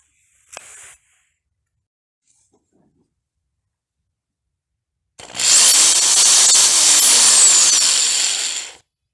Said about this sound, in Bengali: স্ক্রু ড্রাইভার মোডে এটা স্ক্রুটাকে বসাতে সাহায্য করবে।